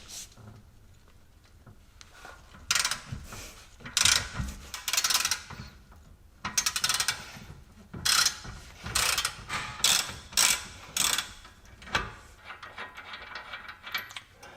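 A ratchet wrench works loose the 21 mm nut on the lower rear suspension arm of a Jaguar S-Type, with bursts of quick clicking separated by pauses and clinks of metal, close and fairly loud in a workshop.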